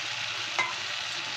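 Marinated mixture sizzling and frying steadily in a pan, a soft continuous hiss with a brief stir or clatter partway through, no talk.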